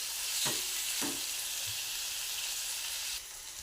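Stuffed eggplant frying with onion and tomatoes, giving a steady loud sizzling hiss up close and two brief stirring knocks early on, alone without voices.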